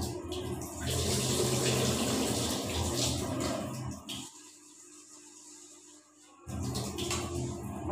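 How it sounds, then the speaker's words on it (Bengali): Rice being washed under a running tap in a kitchen, a steady broadband rush of water that cuts out for about two seconds near the end before the flow resumes. "চালটা ধুয়ে দিই।"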